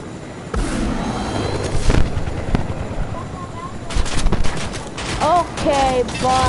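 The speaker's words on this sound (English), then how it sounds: "I hear snipers" Video game gunfire with sniper rifles, bursts of shots and rapid fire scattered across the clip at mid distance, with other game effects chirping in the background.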